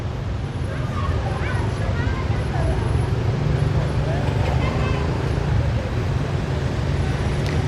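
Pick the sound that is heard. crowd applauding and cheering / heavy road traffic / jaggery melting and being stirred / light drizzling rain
heavy road traffic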